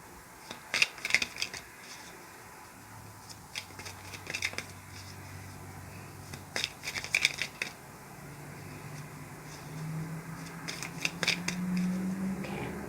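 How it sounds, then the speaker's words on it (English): Quick bursts of riffling tarot cards being shuffled come in clusters, crisp flicks near the listener, separated by pauses with a low hum in the background. "here I'm going to shuffle a little bit more here"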